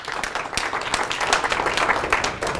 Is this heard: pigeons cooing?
no